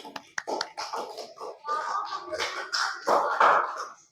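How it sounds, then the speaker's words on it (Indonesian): A classroom of students claps for group 2 during a lesson, bursts of claps mixed with voices in an uneven rhythm, close and moderately loud. "Tepuk tangan kelompok 2"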